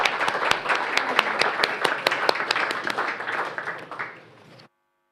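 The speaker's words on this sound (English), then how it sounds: "Round of applause for the young delegates" Applause for young delegates at the close of an EU-Western Balkans summit session, a group clapping fairly close with distinct sharp claps, fading out after about four and a half seconds.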